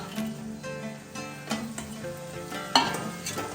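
Whole spices, including bay leaf, dried chillies and cinnamon sticks, sizzle in hot oil for paneer masala, a steady close crackle with a few sharper stirring knocks and faint tonal background sounds.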